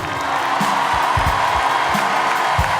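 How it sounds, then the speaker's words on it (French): Crowd at the GP Explorer race event cheering and clapping, a dense continuous wash of applause and whoops with scattered louder shouts. "Donc applaudissez-vous et dans le chat aussi, applaudissez-vous"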